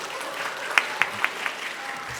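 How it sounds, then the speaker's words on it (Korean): A church congregation breaks into brief applause, scattered claps with a few distinct sharp hand strikes over a soft murmuring room, fairly close and short-lived. "요 장면에서 박수 나온 교회는 좀 드문데"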